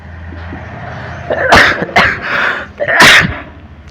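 Two loud sneezes burst out about a second and a half apart, close to the mic, with a faint room hum beforehand and no talking.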